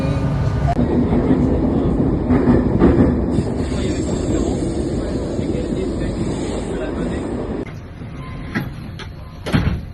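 Inside an RER commuter train in Paris heading to the airport, a continuous rumble and rattle of the carriage fills the scene, with squeals and clanks toward the end.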